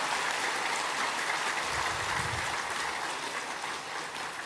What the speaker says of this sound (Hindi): सभी एक दूसरे के उत्साह वर्धन में तालियों की गड़गड़ाहट करें।